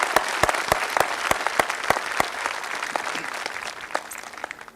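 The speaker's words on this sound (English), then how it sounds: "Please join me in a round of applause" Commencement crowd at Peninsula College breaks into sustained applause, many hands clapping densely with a few sharper claps standing out near the start, steady and fairly close throughout.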